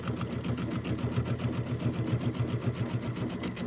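Sewing machine running steadily while stitching a mini quilt during assembly, a fast even chatter of needle strokes continuing throughout, close and alone with no talking.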